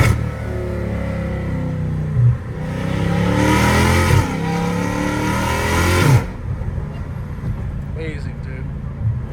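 A catless Dodge Challenger Hellcat Redeye roars loudly at close range. Its engine revs up hard in two long surges with rough, crackling exhaust, then settles to a burbling idle, and someone speaks over the engine.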